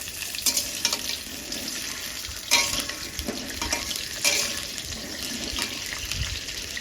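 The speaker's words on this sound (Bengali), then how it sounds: "আলুটা আমি ভালো করে ভেজে নিই" Potato pieces frying in oil in a home kitchen, a continuous bubbling sizzle with several sharper crackling bursts and stirring clatters at irregular moments.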